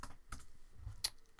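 A few faint, scattered key taps on a computer keyboard, quiet and close, with no voices.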